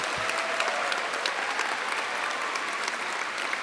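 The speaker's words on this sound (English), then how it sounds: "Let's give all of our honorees a big round of applause" A crowd at a live honors show in Virginia applauds its honorees with loud, sustained, even clapping that runs throughout with no talk over it.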